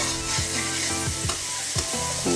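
Ginger, garlic and mutton fry in a pan with a steady close sizzle, broken by repeated scraping stirs.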